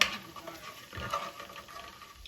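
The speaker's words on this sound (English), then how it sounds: "Stir that up." A spoon stirs a flour-thickened sauce for pork chops with apple cider in a pan, a brief soft scraping and faint sizzle at low level.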